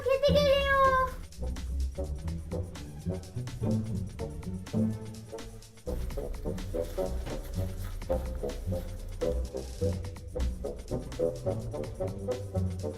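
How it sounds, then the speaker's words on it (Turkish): A cat meows a few times at the start, followed by busy rhythmic music with a steady beat running to the end. "dev kara kedi kapının önünde"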